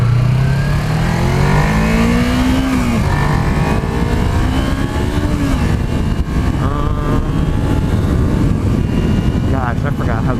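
A motorcycle engine drones and shifts pitch while being ridden on the road, loud and continuous with rising and falling revs under heavy wind rush.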